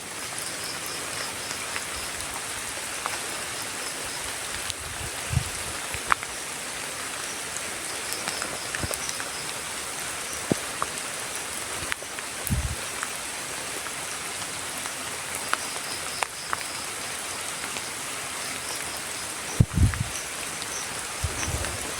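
Steady rain patters on a surface throughout, with occasional louder drips and knocks close by; no talking.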